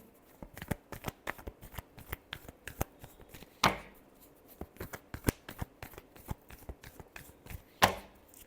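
Tarot cards shuffled by hand in quick, irregular crisp riffles and slaps, with two louder bridging snaps standing out, close and alone.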